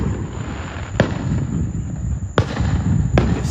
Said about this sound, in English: You can see the fireworks and shit behind me.